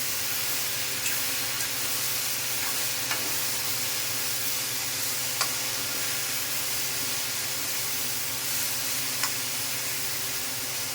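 Mushrooms fry in a pan with a steady, close sizzle and hiss that runs throughout, with a few faint clicks of stirring.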